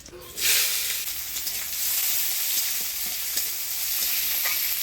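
Chopped onion dropped into hot oil with green chili and nigella seeds, bursting into a loud, close sizzle that settles into a steady frying hiss with light stirring scrapes.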